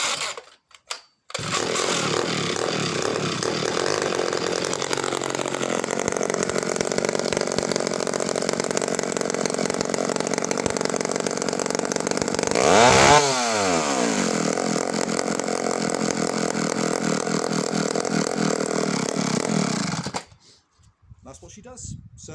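A vintage McCulloch 1-53 87cc two-stroke chainsaw engine runs on choke at a steady, rough idle, rising briefly in a revving surge midway before cutting off abruptly; a voice speaks faintly beneath.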